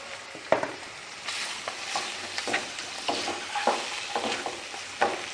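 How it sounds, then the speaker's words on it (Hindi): Vegetables being stir-fried in a wok with sugar, salt, black pepper, soy sauce and chicken powder: repeated scraping and clanking strokes of a spatula over a steady close sizzle, with no voices. "इनको अच्छी तरह मिक्स करें।"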